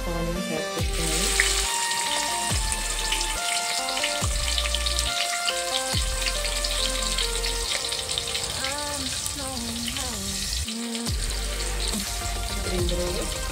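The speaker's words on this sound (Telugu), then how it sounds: "ఆయిల్ హీట్ అయిపోయింది కదా, ఇప్పుడు ఇందులో ఒక కప్పు ఆనియన్స్ యాడ్ చేస్తున్నాను" A cup of onions fries in hot oil for a country chicken masala curry, sizzling continuously and close, with scraping stir strokes and clinks over the crackle; background voices and music are faintly present.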